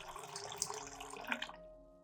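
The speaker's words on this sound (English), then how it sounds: "I will dilute this solution with about 1 liter of clean water." Clean water, about a litre, is poured to dilute a Zamioculcas plant nutrient solution, making a faint, close splashing trickle that stops abruptly near the end.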